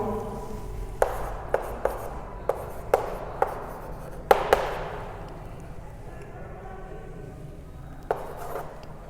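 Handwriting on a board or paper during a class-5 fractions maths lesson, with sharp tapping strokes and clicks in an irregular run, close and fairly loud over a steady room background, no speech.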